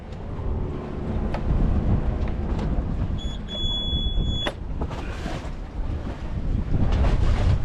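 Strong wind gusting around 20 knots roars and buffets continuously around an anchored sailboat, with water slapping and a brief high whine partway through; no voices.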